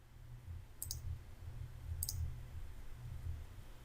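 Two quick mouse clicks in software, clicking OK in a Wonderware Historian Client 2014 dialog, sharp and close over a low steady hum, about a second apart.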